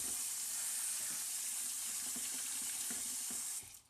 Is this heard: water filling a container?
yes